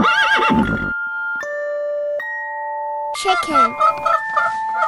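A horse whinnies in a children's animal-naming cartoon, a loud, wavering neigh that fades, followed by sustained synthesized tones and a brief rooster-like crow near the end.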